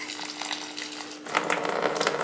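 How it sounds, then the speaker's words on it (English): Water poured into a large potted plant and draining out, a steady trickling wash that grows louder and splashier toward the end. "You can see that water filling in, and now it's starting to run out"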